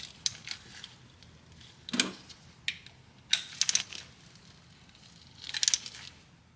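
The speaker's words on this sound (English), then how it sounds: "Now I'm going to use a 3/8 ratchet." A 3/8 ratchet tightening a 12mm bolt on a 2007 Toyota Highlander Hybrid during timing belt work, heard as short bursts of quick metallic clicking spread across the clip, close and crisp, with no voices.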